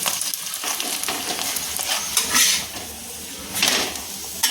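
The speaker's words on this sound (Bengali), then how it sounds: "এবার আমি একটু তেল দিয়ে ভেজে নিচ্ছি" Egg roll flatbread frying in two spoons of oil in a pan, a steady soft sizzle with stirring and scraping bursts, fairly close and without any talk.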